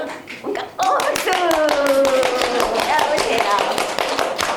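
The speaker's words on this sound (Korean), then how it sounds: "박수!" At a church children's praise session, children clap their hands in a quick, steady rhythm along with voices singing a hymn, the claps sharp and close.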